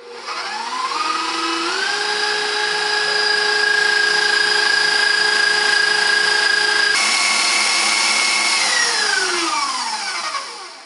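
An electric mixer beats honey into eggs and sugar for a honey sponge cake, a loud close whirring motor whine that ramps up, holds steady, then winds down with a clear drop in pitch.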